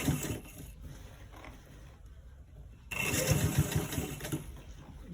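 A sewing machine stitching around a collar roll neck whirs in short runs, pauses briefly, then runs louder and steadier.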